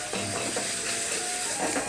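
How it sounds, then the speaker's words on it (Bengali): Boiled banana flower is stirred into spiced masala in a pan for a banana flower chop filling, a close, soft scraping and sizzling with quick spoon strokes over a steady hiss. "দিয়ে 2-3 মিনিট মতো একটু নেড়ে নাও"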